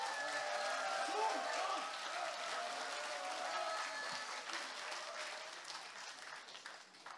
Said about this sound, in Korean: 박수로 받아주십시오.